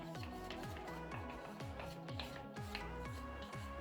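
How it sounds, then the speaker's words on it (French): Dissolved soap mixture is stirred in a bowl, making quiet, rhythmic scraping and rubbing strokes that repeat several times a second, close and soft, with no talking. "je vais continuer de mélanger un petit peu"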